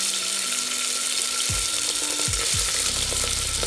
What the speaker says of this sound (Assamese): এই চাউলখিনি 5 মিনিট মান ধুনিয়াকৈ ভাজি কৰিম